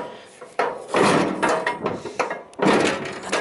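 A heavy door is shoved open with a series of wooden thuds, scrapes and creaks, loud and close, in uneven bursts with a brief pause near the end.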